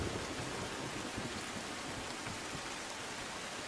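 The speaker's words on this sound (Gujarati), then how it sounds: "નવસારી જિલ્લામાં ભારે વરસાદથી પાણી જ પાણી" Heavy rain pours steadily over Navsari district, Gujarat, a dense, unbroken hiss of downpour with no pauses and no voices.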